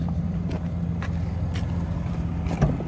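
A truck pulling a trailer loaded with landscape material rumbles along, a steady low engine drone with a few faint clanks and one brief knock near the end, moderately close and heard alone.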